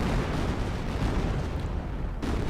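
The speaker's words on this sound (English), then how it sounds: "280mm rocket battery." Barrage from an off-map 280mm rocket battery in a World War II strategy game: a continuous, loud, rumbling roar of blasts and booms that fills the whole stretch without pause, briefly dipping near the end, with no talk.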